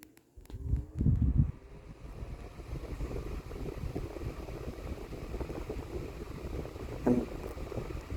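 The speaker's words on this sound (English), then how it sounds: "let's go ahead and turn the fan on" A Lasko Air King 12-inch oscillating desk fan, set to high with oscillation off, starts up with a clunk and settles into a low, steady whooshing rumble with a faint rattle, continuous and moderately quiet.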